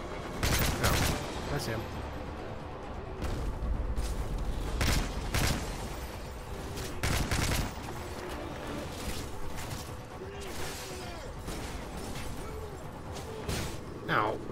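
Gunfire in Call of Duty Modern Warfare 3 on a Paris street, repeated sharp shots and bursts at irregular intervals over a low background rumble, with someone talking between them.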